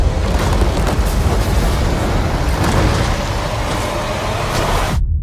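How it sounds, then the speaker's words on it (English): Explosions in the dramatic shipwreck scene of The Little Mermaid trailer: a dense, loud, continuous booming rumble that cuts off abruptly at the end. "they opened the trailer up with this insanely dramatic shipwreck scene"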